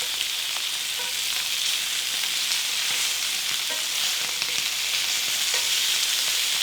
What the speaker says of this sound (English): we'll sear these for another 3 to 4 minutes on this side